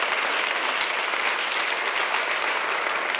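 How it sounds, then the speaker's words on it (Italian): A church congregation at a Sunday gospel service in Milan breaks into applause, a dense and steady wash of clapping from many hands that stays full and even throughout, without any speech over it. "Fate un applauso a Sounds che ci porta una bella lode ogni domenica."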